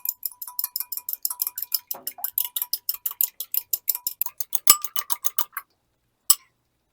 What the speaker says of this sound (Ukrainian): До яєць додаю трішки води і збиваю виделкою.